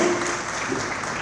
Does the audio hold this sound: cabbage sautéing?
no